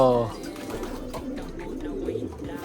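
Japan-type pigeons cooing softly near a dovecote, low murmuring coos repeating steadily over about three seconds with a bit of background noise.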